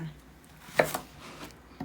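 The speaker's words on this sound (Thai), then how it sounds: "มาหั่นบักเคียกันเลยจ้า" A knife chops eggplant for a Thai green chicken curry with fish balls. Two or three sharp, close cuts sound against a quiet kitchen background.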